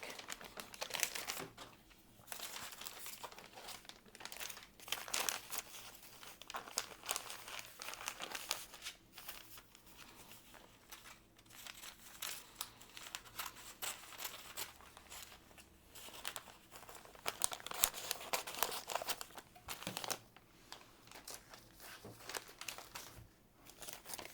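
Heat and Bond fusible web paper is handled against fabric, producing close, irregular crinkling and rustling that comes in bursts for the whole stretch, quiet and with no voices.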